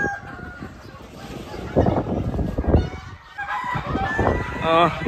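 Chickens and roosters at a busy poultry market cluck and crow in overlapping calls, with one rooster crowing loudly near the end against steady crowd noise.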